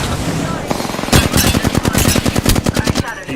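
Rapid automatic gunfire in Apex Legends hammers out a fast, loud burst of closely spaced shots after a brief lead-in of game noise.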